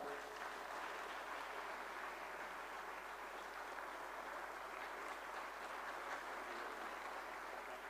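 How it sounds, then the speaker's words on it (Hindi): Audience applause at a formal ceremony honouring Pandit Madan Mohan Malaviya, a dense, even patter of many hands clapping steadily throughout, heard from a distance and moderately faint. "जोरदार तालियां एक बार"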